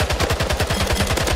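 Rapid, repeated gunfire bursts from a video game shotgun in Splitgate, loud and close, a dense volley of shots with little pause between them and no talk.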